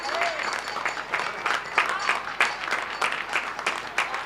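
Scattered applause from residents clapping for healthcare workers and retail staff during a lockdown evening tribute, heard at a distance with a steady, irregular patter of hand claps and faint voices mixed in.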